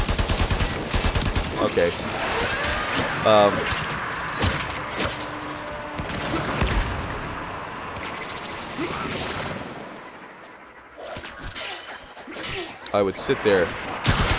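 Bursts of rapid gunfire and impacts from the Warframe video game in a solo survival mission, recurring in clusters with short pauses, while someone talks over the action.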